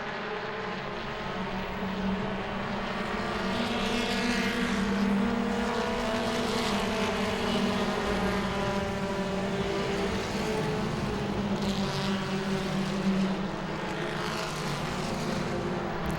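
Super Trucks race at Langley Speedway, their engines making a continuous loud roar that holds steady as the pack circles the short oval, with a distant drone underneath.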